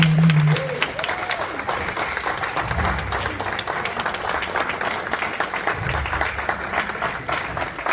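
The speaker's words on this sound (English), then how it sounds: "with a resounding round of applause, join me in welcoming Dr." An audience at a networking event breaks into sustained, dense applause as a speaker is welcomed, clapping steadily for the full stretch while a low voice murmurs briefly near the start.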